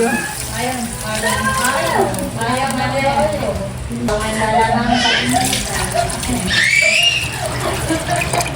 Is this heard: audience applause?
no